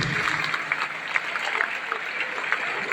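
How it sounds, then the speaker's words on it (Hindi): A crowd claps steadily in honour of a guest at an AWPL diamond celebration event. The dense, even clapping carries through the whole stretch with no break. "लिया उनके लिए जोरदार ताली होनी चाहिए"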